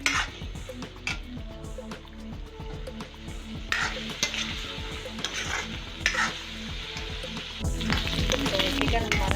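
Chicken fries in oil in a pan, with a continuous close sizzle, repeated clinks and scrapes from a utensil against the cookware, and no voices.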